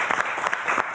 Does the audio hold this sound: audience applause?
yes